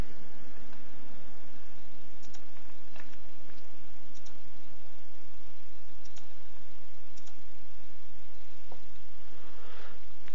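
Sparse keyboard clicks as a username is entered during Windows 8.1 setup on a Mac, a few light taps in short bursts over a steady hiss, close and fairly faint.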